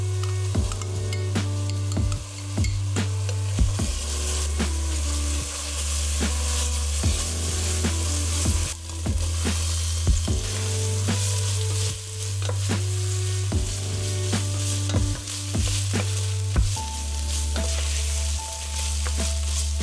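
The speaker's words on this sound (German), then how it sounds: "Bratet erst die Zwiebeln glasig, dann gebt ihr das geschnittene Gemüse dazu und bratet es etwa 5 Minuten an." Onions and chopped vegetables sizzle steadily in a pan for a mulligatawny soup, with repeated scraping strokes of a spatula stirring them every second or two, close and alone without talk.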